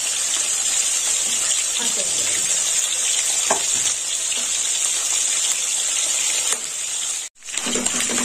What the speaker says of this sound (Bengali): বাকি মাছের মাথাগুলো ভেজে নেব